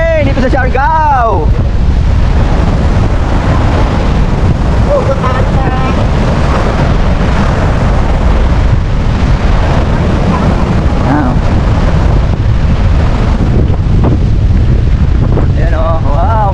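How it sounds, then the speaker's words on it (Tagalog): Strong beach wind in Siargao roars without a break, buffeting the microphone in a loud, continuous rumble while a voice speaks over it. "Ang lakas ng hangin dito sa Siargao!"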